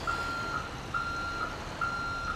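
A truck's reversing alarm in GTA V beeps three times at a steady, regular pace, each long tone sounding clearly over a constant rumble of engine and street noise.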